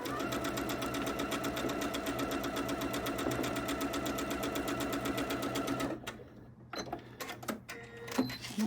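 A sewing machine stitches a quilt block for a stacked gift boxes quilt, running in a steady rapid whir that stops abruptly, followed by a few faint clicks and handling noises.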